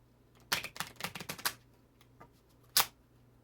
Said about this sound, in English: We do 3 rounds of shuffling and pull the cards.